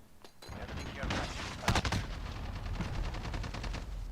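Unsuppressed gunfire in Modern Warfare, a dense run of rapid shots with a sharp loud burst in the middle over a busy game soundscape, faint voice murmur underneath.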